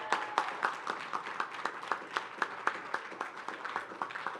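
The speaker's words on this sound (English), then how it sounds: "let's give them a big round of applause." A round of applause from the audience at the opening ceremony of a Toastmasters district conference, a moderate crowd clapping in a loose rhythm with distinct individual claps, steady and fairly quiet.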